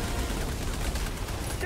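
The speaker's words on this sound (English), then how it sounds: "let's do an airstrike" Airstrike explosions and gunfire in a video game, a continuous dense barrage of booms and rapid shots, loud and unbroken throughout.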